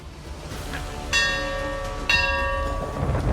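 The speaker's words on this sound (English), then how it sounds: "Sound the bell, mercenary." A ship's bell aboard a vessel in The Elder Scrolls Online is struck twice about a second apart, each bright metallic clang ringing on over a steady background of wind and sea ambience.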